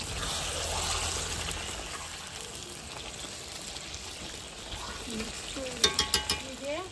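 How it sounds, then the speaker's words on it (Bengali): Tomatoes tip into a hot frying pan and get stirred, a soft sizzle with light scraping, ending in a few quick clinks of a utensil against the pan. "এবার আমি ঢাকনা খুলে টমেটোগুলো দিয়ে দিচ্ছি আর একটু নেড়ে দিচ্ছি।"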